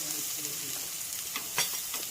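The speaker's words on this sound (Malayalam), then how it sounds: "ഇഞ്ചി ഇട്ട് കൊടുത്ത് എന്നിട്ട് മിക്സ് ചെയ്ത് കൊടുക്കാം" Ginger is stirred into samosa masala frying in a pan, making a low, steady sizzle with a few soft scrapes and one brief louder clatter, quiet and close with no voices.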